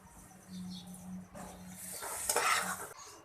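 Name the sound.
dishing suji halwa out of the pan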